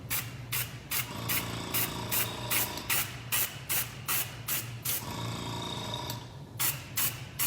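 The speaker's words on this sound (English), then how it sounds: "always spray away from whatever you're spraying first before you go to your finished piece" Airbrush spraying colored cocoa butter in repeated short bursts, a steady rhythm of loud hissing puffs roughly every third of a second over a low steady hum, with a brief pause near the end.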